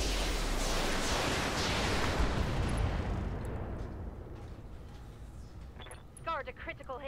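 Heavy mech weapons fire in a video game, a dense roaring barrage of blasts that fills the first few seconds, then trails off into a thinner rumble with faint chirping effects near the end.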